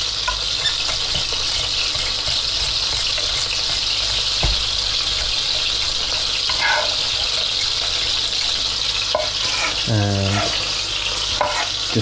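Garlic fries in a pan as it is stirred, a dense, constant sizzle with scraping utensil strokes and a short clatter near the end, close and loud with no talking.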